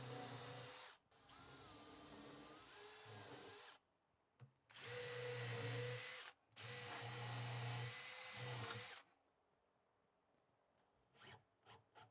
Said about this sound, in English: I'm going to have to pre-drill 4 holes